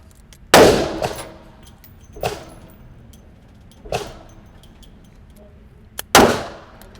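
Revolver shots from a Ruger LCR or Kimber K6xs are fired at targets: five sharp, loud cracks with ringing decay, spaced unevenly over several seconds, the first and last strongest, two quick reports close together near the end.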